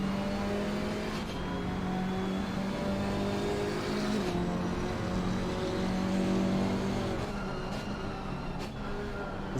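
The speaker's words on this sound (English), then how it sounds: "Listen to the sound of that KTM with a rounded wheel." A KTM X-Bow race car engine in a racing video game holds a steady, droning roar throughout, with small shifts in pitch as it revs through gears, loud and continuous with no talking.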